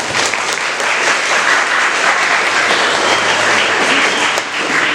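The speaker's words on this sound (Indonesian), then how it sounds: "Tepuk tangan untuk SM2 teman" Dense, steady applause from a large crowd at a school student council election debate, loud and sustained throughout with no break.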